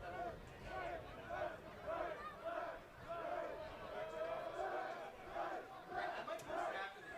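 Spirited crowd at a men's NCAA college soccer match between Yale and Dartmouth at Burnham Field on an October night, rhythmic cheering and chanting swelling in repeated bursts, with a commentator's voice over it.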